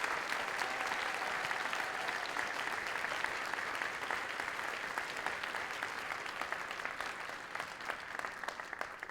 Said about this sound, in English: please give every single volunteer in this building a very big round of applause